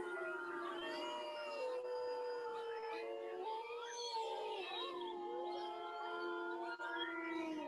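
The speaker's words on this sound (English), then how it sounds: "why does a dog howl? I'm sure you've heard dogs howl at times." A recorded dog howls in long, wavering drawn-out tones that rise and fall steadily for several seconds, played back at a moderate, slightly distant level with no other sounds over it.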